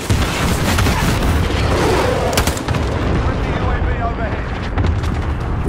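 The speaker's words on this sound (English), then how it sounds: "Allied cluster strike inbound." Cluster strike explosions in Call of Duty Modern Warfare on PS4 crash as dense, continuous loud booms mixed with gunfire, with an in-game voice calling out over the barrage.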